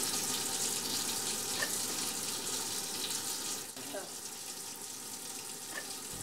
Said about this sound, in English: Use your elbow to turn on the tap. Wet your hands with water.